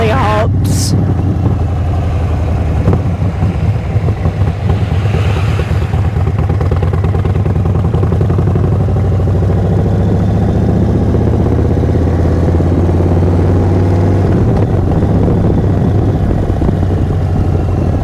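A 2023 Indian Sport Chief motorcycle with a Stage 2 upgrade rumbles steadily while being ridden, its loud low engine drone and wind noise continuing without a break from start to finish.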